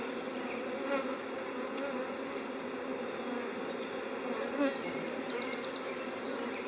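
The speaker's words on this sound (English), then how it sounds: "this bee's pretty persistent on my head right now." A honeybee buzzes persistently around a beekeeper's head outdoors during a swarm catch, a close, steady drone with slight swells in pitch as it circles, with no talking.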